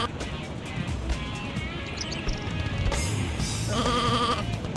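Sheep bleating in the Looney Tunes: Sheep Raider video game, bright wavering bleats near the end over a steady bed of game music and effects, fairly loud.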